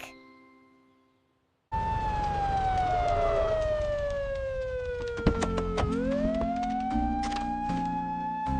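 A loud siren holds a long wailing tone that slowly falls then rises again, over a steady engine rumble, after a brief quiet start.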